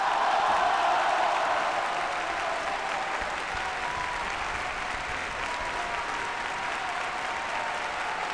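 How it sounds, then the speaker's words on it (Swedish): Audience applause fills the hall at a festive wedding celebration, a steady wash of many clapping hands, loudest at the start and then holding evenly throughout, with no voices over it. "Hör applåderna."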